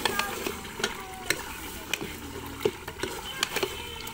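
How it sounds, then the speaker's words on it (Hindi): Beef bones with garam masala are roasted in a pot for pulao, giving off a soft, steady sizzle broken by regular spoon clinks and scrapes against the pot. "अब ये लास्ट है इसलिए हम इसको थोड़ा सा एक मिनट के लिए भूनेंगे।"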